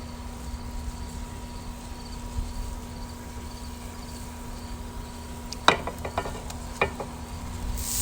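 Steaks in sauce sizzle gently in a cast iron pan on an outdoor grill, a steady low hiss near a faint insect chirp, then a handful of clinking utensil scrapes as the meat goes in.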